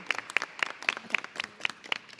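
A small audience at a school board meeting gives a round of applause: steady, uneven handclaps at moderate volume, fairly close, with no speech on top.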